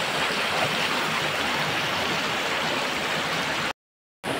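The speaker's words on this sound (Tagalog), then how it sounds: "Nandito na kami mga tol sa baba ng talon." Steady, loud roar of a waterfall heard from its base, a dense continuous rush of falling water filling the clip, cut by a brief dropout near the end.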